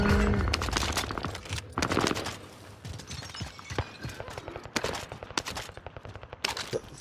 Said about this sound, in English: Somebody trying to shoot me.